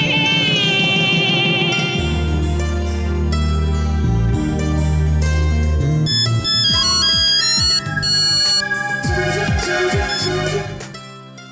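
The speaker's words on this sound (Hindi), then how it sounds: "भवानी, तुम्हारा फोन" A mobile phone ringtone in a Hindi film scene plays a loud, continuous melodic tune with synth notes and a bass line that fill the whole stretch.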